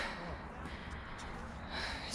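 Heavy breathing from a hot, tired rider beside a Harley Davidson motorcycle: close, rough breaths and gasps filling the clip at moderate level, no clear talk.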